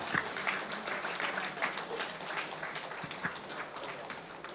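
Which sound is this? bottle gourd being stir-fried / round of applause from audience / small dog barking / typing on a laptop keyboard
round of applause from audience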